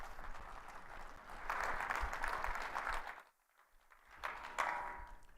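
An audience gives a speaker a sustained, fairly steady round of applause. The clapping drops away briefly, then swells back.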